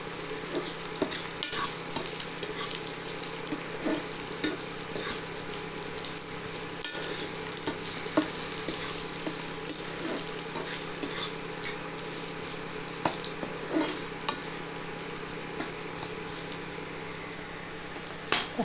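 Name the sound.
onions sautéing in pan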